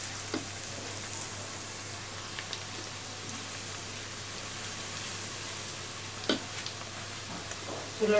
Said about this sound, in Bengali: পেঁয়াজটা 1 মিনিট ভাজা হয়ে গেছে।